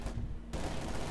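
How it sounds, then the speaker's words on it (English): A demolition charge detonates beside a building during a Company of Heroes 2 battle, a loud abrupt blast cutting off the crackle before continuous dense gunfire and combat noise carry on for the rest of the moment. "Demo charge going up here by the building."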